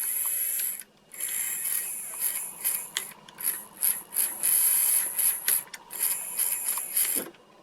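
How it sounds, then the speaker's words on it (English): A small battery-powered toy motor from a Radio Shack skateboarder toy whirs and clicks with a gear-like ratcheting, running steadily up close with a few brief stops and starts, no voices. "I put some batteries in here, and the motor works."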